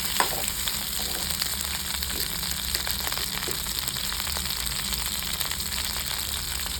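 Ingredients for kovakkai (ivy gourd) chutney sautéing in a pan: a continuous, even, close-up sizzle and crackle with faint stirring, no voices.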